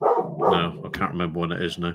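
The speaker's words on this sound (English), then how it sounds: "That is my dog. Don't panic." A dog indoors barks at pigeons in the garden, giving several sharp, fairly close barks mixed with yips while a person keeps talking over them.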